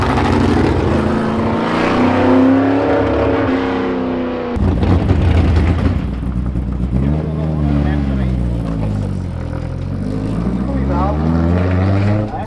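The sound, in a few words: car engine driving out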